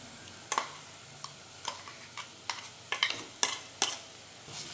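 Spice paste with chilli powder being stirred in a pan over low heat, a quiet sizzle with irregular, crisp clacks and scrapes of a spoon spaced about half a second apart, close by with no talking.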